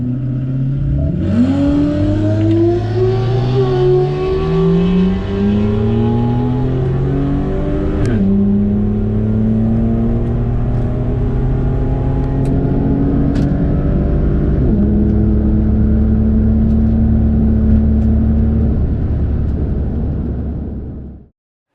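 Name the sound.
modified Ford Falcon NA Barra car accelerating down drag strip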